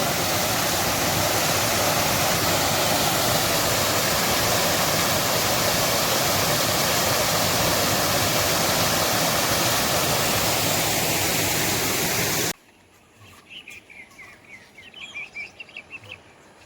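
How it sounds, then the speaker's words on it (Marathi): Loud, steady roar of first-monsoon rainwater pouring down from above close by fills most of the clip, then cuts off abruptly, leaving quieter ambient sounds and faint chirps. "वरून पाणी येत आहे बघा वरतून पाणी येत आहे"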